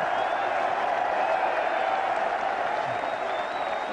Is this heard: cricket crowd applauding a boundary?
yes